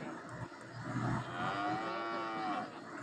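Cattle moo at a busy weekly cattle market in Kuzhalmannam, one long drawn-out harmonic low fading away, set against a constant background of crowd murmur.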